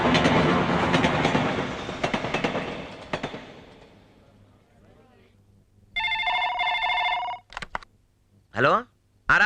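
A telephone rings in a quiet room, with bursts of electronic tone around six and eight seconds, following a stretch of loud dramatic music and voices that fade away beforehand.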